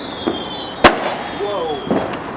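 Fireworks launched into the night sky on Bonfire Night, with one sharp loud bang near the middle and fainter pops and whistling trails around it, set against outdoor background noise.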